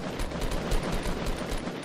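Rapid automatic gunfire from the Fortnite video game rattles in a dense run of repeated bursts at close range, with no pauses across the short stretch.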